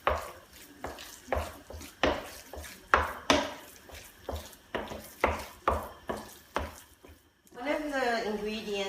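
Rhythmic scraping and clinking as Shanghai wonton filling seasoned with soy sauce is mixed in a bowl, a dozen steady strokes, followed by a voice speaking at the end.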